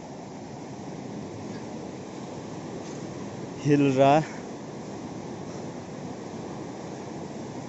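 The Suru River in Kargil, Ladakh, runs with a strong current, giving a steady, even rush of water throughout. A person speaks briefly over it near the middle.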